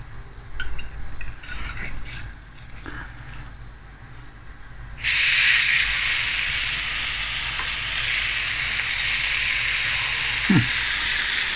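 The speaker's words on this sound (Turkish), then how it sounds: "Şöyle mühürlemeye başlayalım." An antrikot steak hits a hot cast iron pan and a loud, steady sizzle begins partway through, continuing unbroken at close range after a few quieter clinks and handling sounds.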